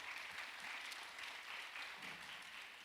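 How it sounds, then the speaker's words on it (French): Audience applause in a lecture hall at a talk on content creation, a continuous, fairly faint patter of many hands clapping throughout. "vous pouvez applaudir"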